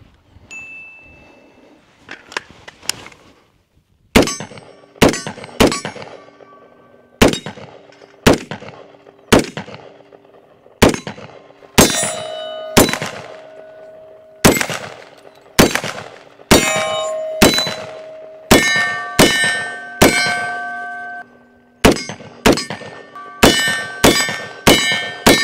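An Anderson AR rifle fires offhand at steel targets about 25 yards away, each sharp shot followed by a bright ringing clang that decays slowly, repeated over twenty times in an uneven rhythm, loud and clear with no talking.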